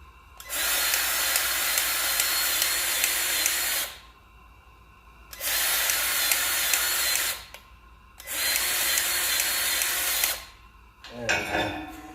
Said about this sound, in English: That's a grease gun.